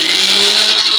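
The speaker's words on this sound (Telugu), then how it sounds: "ఇంకా మనం మిక్సీ పట్టుకుందాము" A kitchen mixer grinder whirs steadily, grinding a spice mix of onion and chilli, a loud, continuous high-pitched motor whine with no pauses or voices over the short stretch.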